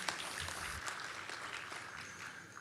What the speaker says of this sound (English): Let's give another round of applause, ladies and gentlemen, to all the dancers.